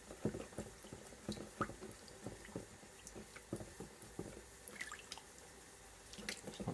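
A hand-hammered gutty golf ball goes into cold water, giving soft, close splashes and drips that repeat irregularly at a low level.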